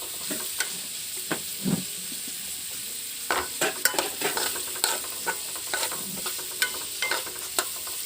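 Onion, tomato and green chili are stir-fried for egg fried rice, with steady sizzling broken by repeated scraping and clinking stirs of a utensil against the pan.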